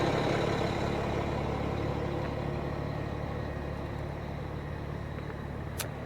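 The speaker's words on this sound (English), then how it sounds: "you hear the traffic noise we deal with." Road traffic in Yellowstone National Park, a steady rumble of idling and passing cars and trucks heard from the roadside, continuous and moderately loud with no clear individual vehicles.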